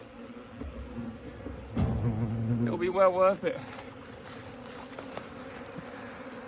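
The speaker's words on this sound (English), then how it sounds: "Come on bees, they're huge colonies." Honey bees drone and buzz steadily around large hive colonies, a dense close hum that swells briefly while a person speaks over it.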